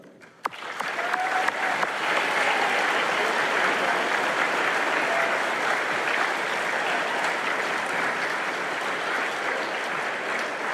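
Sustained applause from a school audience of junior and senior high students greeting a guest speaker at a veterans assembly, steady and full for about ten seconds after a brief quieter start.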